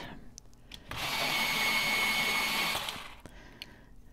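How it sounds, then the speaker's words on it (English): Watercolor pencils being sharpened, a short whirring grind lasting about two seconds with faint clicks before and after, fairly quiet and close. "I'm going to sharpen them because I'm going to use the watercolors"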